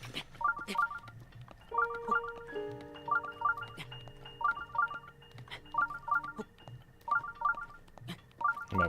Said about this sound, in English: My phone's making buzz noises.